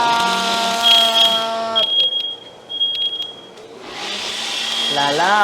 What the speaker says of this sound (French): L'alarme est partie!